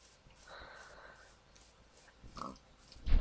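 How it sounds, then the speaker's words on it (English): A pig in Minecraft grunting and oinking in a few short snorts, the last one louder and closer, heard alone without speech. "Hi, Piggy. Are you my friend?"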